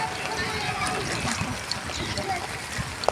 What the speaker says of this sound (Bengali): এই সব বাইরের ছেলেরা এসে খেলছে জলের মধ্যে